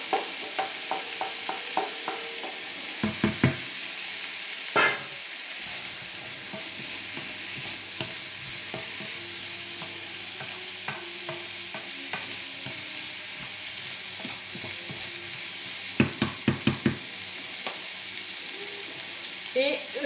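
Beef for boeuf bourguignon sizzling in a pot, a steady close frying hiss broken by a few sharp clusters of stirring and utensil knocks against the pot.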